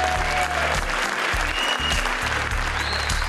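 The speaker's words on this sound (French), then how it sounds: "D'applaudir Monsieur Sam Touzani" Theatre audience applauding Sam Touzani, a steady, dense wash of many hands clapping throughout, loud and continuous with no talk over it.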